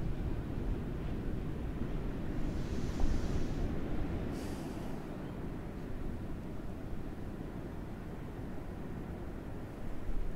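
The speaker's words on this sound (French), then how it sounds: "Le vent fait tomber le trépied." Wind blowing at a coastal bay, a steady loud rumble buffeting the microphone throughout, with no voices.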